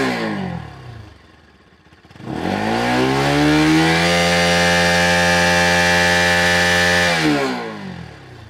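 A used motorcycle idles with a low rumble, then its engine is revved hard and held at high RPM for several seconds in a loud, steady whine before dropping back toward idle, with no talk over it.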